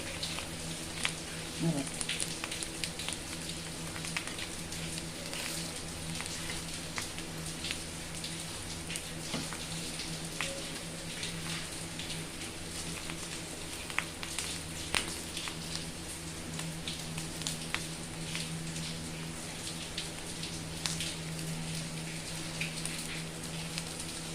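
Sweet paniyaram batter frying in hot oil in a paniyaram pan's cavities, a steady fine crackling sizzle with scattered pops, alongside a low hum and occasional faint voice.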